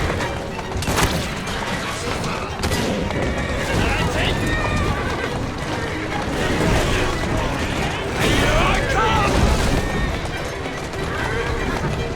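Horse-drawn carriages racing through Victorian London streets in the video game Assassin's Creed Syndicate: rumbling wheels, clattering hooves and neighing horses with crashes, under continuous character speech.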